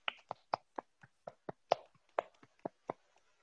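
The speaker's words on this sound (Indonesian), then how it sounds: "kita kasih tepuk tangan" Scattered clapping from classmates in an online primary-school maths lesson, about a dozen distinct claps in an irregular rhythm, quiet and thin as if from only a few people over a call.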